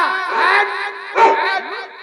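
A man imitates a dog with his voice, producing a few yapping barks and whimpering howls up close, in a Marathi village comedy sketch.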